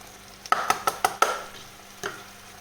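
A spoon scrapes and knocks against a pan as parsley is stirred into a tomato-based sauce for spaghetti lasagne, giving five quick, sharp clinks in a row followed by one more a moment later, close and clear without talk.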